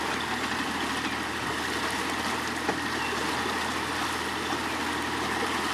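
A fishing boat trolls slowly across deep water on Lake Shelbyville, with a steady, dense engine drone and water wash running continuously at an even level, with no talk.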